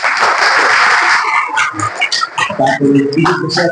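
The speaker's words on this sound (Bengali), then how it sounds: "জন্য একটা জোর হাততালি" An audience at a club gathering claps loudly for its president during a speech, a dense burst of applause that thins out and gives way to someone talking.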